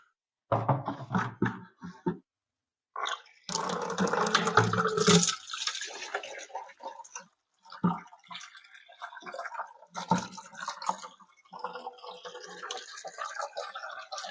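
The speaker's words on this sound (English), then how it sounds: "I'm going to start transferring this over into the fermenter" Rum wash being poured and transferred into a fermenter: bursts of splashing, gurgling liquid separated by short pauses, then quieter trickling and sloshing, close by with no talk.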